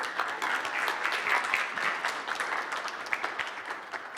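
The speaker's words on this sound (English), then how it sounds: "How about a nice big round of applause for Scott Wilkerson?" A conference audience at Nagios Con 2014 applauds a presenter, a full, steady wash of many hands clapping at moderate volume for a few seconds.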